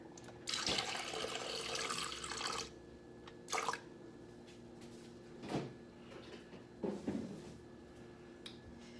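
Water is poured from a bottle into a protein shake container in a kitchen: a couple of seconds of close, rushing pouring, then a few brief clunks and splashes of handling at a quiet level.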